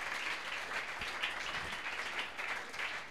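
A church congregation at a seminar applauds to acclaim a man of God, with dense, continuous clapping and crowd noise at moderate level, no speech over it.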